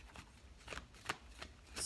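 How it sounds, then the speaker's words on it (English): A deck of tarot cards is shuffled by hand, giving quiet, brisk riffling bursts in an irregular rhythm, close up and soft, with no speech. "I shuffle different ways. I shuffle until I kind of get the internal message to stop."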